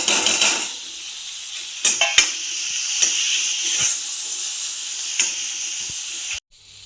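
Onion, garlic, ginger and green chilli dropped into hot oil in a pan, a steady loud sizzle and hiss with occasional clinks of a spoon stirring, cutting off abruptly at the end.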